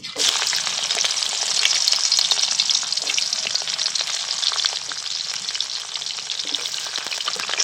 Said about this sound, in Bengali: এই দুটো সবজি আমি খুব ভালো করে ভেজে নেব।